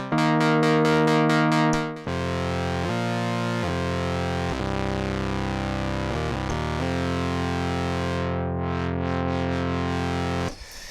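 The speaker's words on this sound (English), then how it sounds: "So that gives you a slight idea of what the synth can sound like." Sustained Moog Sub 37 analog synthesizer tones switch between distinct presets, some buzzy and distorted, others with chorus-like shimmer, held notes changing every second or two.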